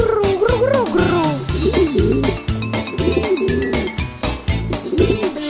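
Soft, burbling cooing calls rise and fall over a loud, bouncy musical beat, repeated several times like pigeons imitated within a cheerful song.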